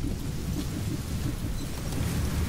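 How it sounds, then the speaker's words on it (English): Heavy rain pours with rolling thunder during a storm in Metal Gear Solid V: The Phantom Pain, a dense continuous downpour with low rumbling throughout and no voices. "Storm! Perfect!"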